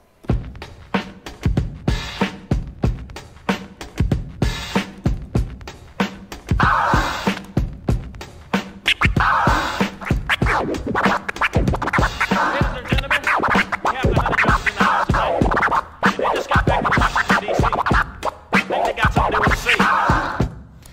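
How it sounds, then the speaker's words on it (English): A DJ scratches a record on a turntable over a looping breakbeat, producing dense, rhythmic scratch bursts that run continuously and loudly throughout with no talk. "how to just scratch better on top of those breakbeats"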